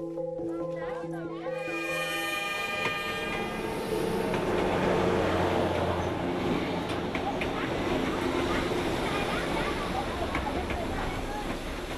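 Train wheels clattering over rails in Vietnam, a dense continuous rattling and rumble with a brief horn-like tone at the start; loud and close, as if heard from aboard or beside the moving train.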